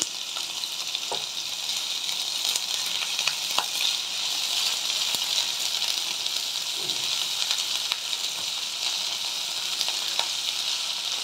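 Long-sliced onions for a pumpkin curry frying in a pan, making a steady, dense, even hiss and sizzle, close and continuous, with faint occasional stirring ticks and no voices.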